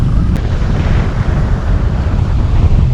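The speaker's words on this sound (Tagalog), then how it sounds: "Napakalakas ng alon, pero hela, sige, fishing pa rin." Strong sea waves and gusting wind roar at a coastal fishing spot in Cavite, a loud continuous buffeting rush heavy on the microphone with no talk.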